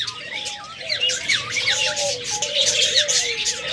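A pair of pet birds, a rainbow male and an albino female, squawk and chirp in busy overlapping warbles, close and fairly loud, with faint background noise.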